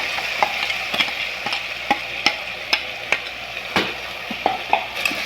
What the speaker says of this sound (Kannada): ಇದನ್ನ ಈ ರೀತಿ ಕ್ಲೀನಾಗಿ ಮಿಕ್ಸ್ ಮಾಡ್ಕೊಳ್ಳಿ.